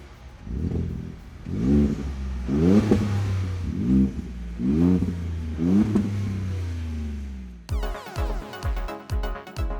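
Ford F-150 with a 3.5 V6 and a MagnaFlow MF Series catback exhaust revving in short, repeated throttle blips that rise and fall, then a few quicker, sharper bursts near the end, loud and close.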